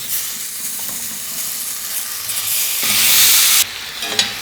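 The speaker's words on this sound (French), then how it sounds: "Ici, dans une poêle à peu près chaude, je vais faire du caramel" Caramel cooking in a moderately hot frying pan gives a steady, soft sizzle that swells into a louder, brighter hiss near the end, then drops off abruptly, with no voices.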